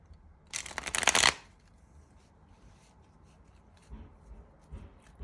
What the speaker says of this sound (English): Shuffle these cards good after the last pile.